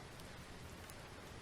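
Steady rain falls in a Call of Cthulhu game scene, a faint, even hiss of drops that continues throughout with no pauses or voices.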